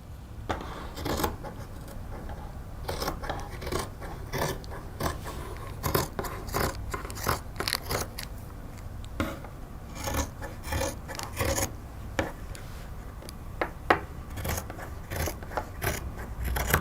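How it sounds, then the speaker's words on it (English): Scissors cutting through fabric for coat gussets, a steady run of close crisp snips and rasping blade strokes in an irregular rhythm, with no talking. "Next, I need to cut the gussets, the main characters in this scenario."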